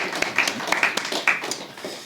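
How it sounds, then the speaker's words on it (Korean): A church congregation claps in welcome during a Sunday service, scattered, fairly faint hand claps at irregular intervals in a reverberant room, with no steady rhythm. "그 네 분이 이렇게 오늘 주 앞에 나왔는데 박수 환영하겠습니다"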